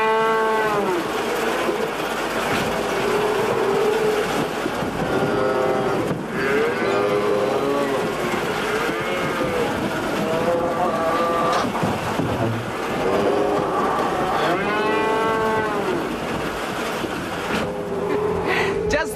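A large dairy herd of about 600 cows moos repeatedly across a farm barn, long drawn-out lowing calls overlapping from near and far over steady background noise.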